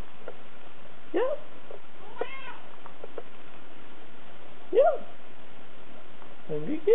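A hungry house cat gives a few separate meows at uneven intervals, near and fairly loud, with quiet pauses between the calls.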